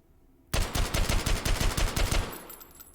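A suppressed MAS 49/56 rifle fired in rapid succession in the VR game H3VR: about a dozen quick, evenly spaced muffled shots in a steady rhythm, loud and close, ending with a short ringing tail.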